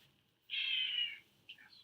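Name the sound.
pet cat meowing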